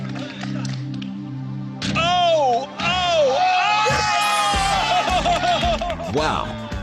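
A small crowd cheers, whoops and laughs loudly at a blindfolded basketball shooting attempt, with excited voices rising together and scattered clapping in short bursts.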